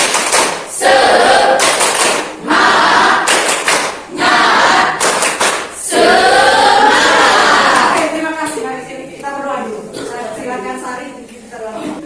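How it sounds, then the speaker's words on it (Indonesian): A school class claps a rhythmic spirit-chant pattern (tepuk semangat) before a lesson, loud bursts of group claps in several distinct patterned blocks, with the pattern quickening toward the end as the sound thins. "Tepuk semangat"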